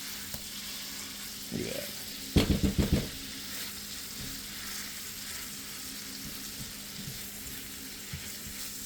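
A patty melt sizzles and fries in a pan, with a short burst of scraping as it is flipped and mashed down, then a quiet steady sizzle; a brief spoken remark sits near the start.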